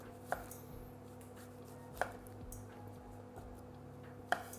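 Knife chopping champignon mushrooms into cubes on a board, a few sharp isolated taps spaced seconds apart over a steady low background hum, fairly quiet and with no talking.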